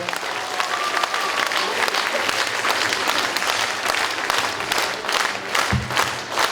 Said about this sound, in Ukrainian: Аплодуйте хмельничанам